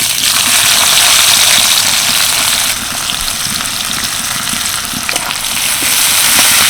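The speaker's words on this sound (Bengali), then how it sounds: "এবার পেঁয়াজটা ভালো করে ভেজে নেব" Two large chopped onions frying in mustard oil in a wok with a bay leaf and cumin, making a loud, steady, close sizzle that continues throughout with faint stirring, no speech.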